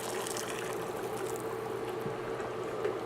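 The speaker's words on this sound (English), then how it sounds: "now we're going to add about 500 ml of boiling water" Boiling water poured into a pot of chicken arroz caldo with mushroom, a steady, continuous liquid pour with a low watery rush that stays even and fairly close for about three seconds, with no voices.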